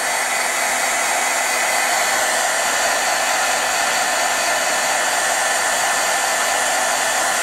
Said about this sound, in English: This is one of these, you know, standard heat guns.